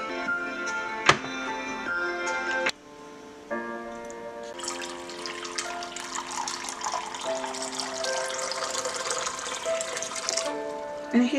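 Tap water runs steadily into a sink while vegetables for a healthy salad are rinsed and sorted, a broad splashing hiss that starts partway through after a stretch of tonal sound.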